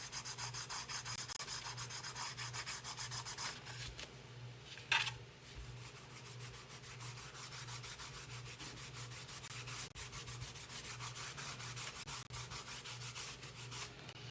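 Paint is rubbed by hand into a wooden Christmas bench insert in a quiet room, giving a soft, steady scrubbing and rasping with a faint hum beneath and one brief louder knock partway through.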